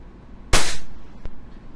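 A Glock 17 Gen 5 airsoft pistol fires a single sharp, close snap during a velocity test, followed by a faint click.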